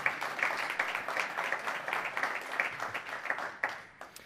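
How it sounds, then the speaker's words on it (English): A small group claps and applauds steadily for a few seconds, a close, busy patter of hands that fades slightly toward the end. "everybody clap for Alex."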